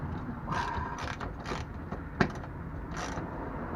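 A torque wrench ratchets on the bolts of a car's skid pan underneath the vehicle, giving several short bursts of clicking with pauses between them and a single sharp click near the middle.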